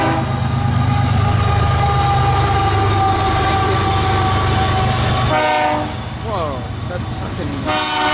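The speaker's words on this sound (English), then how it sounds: "That's the loudest K5HL I've ever heard." An old cast K5HL air horn on a passing freight locomotive blares loud and sustained over the rumble of rolling rail cars, its chord wavering and shifting as it sounds in several blasts; voices talk in the background.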